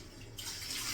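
Water splashes and runs steadily as it is poured over a Pomeranian during a bath at home, starting abruptly after a brief quiet moment and continuing close and fairly loud.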